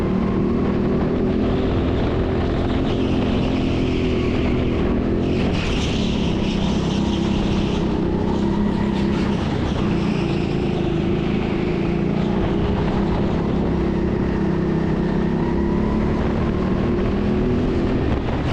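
Go-kart engines drone loud and constant from on board during a public session at an indoor TeamSport track, with a steady rasping buzz that rises and falls slightly through corners, wind rushing over it, and no talking.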